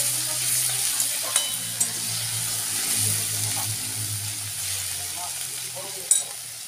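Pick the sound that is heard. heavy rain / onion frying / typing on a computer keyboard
onion frying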